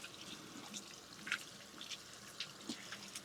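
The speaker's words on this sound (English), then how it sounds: "Gotta make sure I wash my hands" Water running from a kitchen tap as hands are washed at the sink, a soft steady splashing with a few brief drips and spatters, heard alone and fairly faint.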